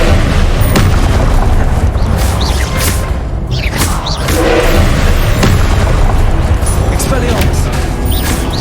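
Confringo spell blasts from Hogwarts Legacy combat, with repeated booming bursts and thuds over a dense, loud battle din, and a voice calling out spell names throughout.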